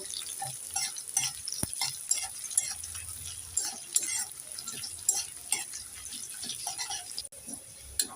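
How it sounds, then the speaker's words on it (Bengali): A quiet tempering of dried red chillies, chopped onion and crushed garlic fries in a pan for lentils with bottle gourd greens, soft sizzling broken by light stirring scrapes and a single sharp knock. "দিয়ে দেব দুটো শুকনো লঙ্কা দিয়ে দেব কেটে রাখা পেঁয়াজ দিয়ে দেব থেতো করা রসুন একটু নেড়ে চেড়ে ফোড়নগুলোকে আমি ভেজে নেব"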